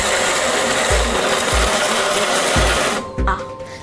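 A mixer grinder running with its jar on, a loud steady whirring drone with a few low thumps, cutting out near the end.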